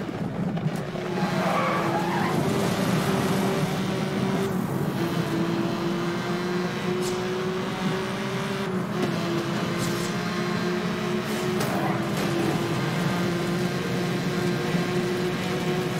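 A car skids and slides with a steady engine drone in Need for Speed Hot Pursuit (2010), tire squeal sustained and loud throughout, with no one talking.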